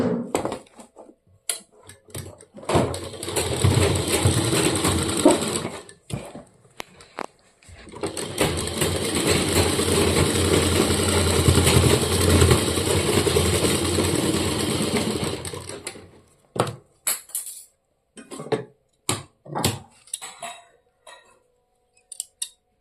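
A sewing machine stitching a half pant runs in two long steady bursts of rapid whirring, near and loud, with short clicks and cloth handling around them and no talking.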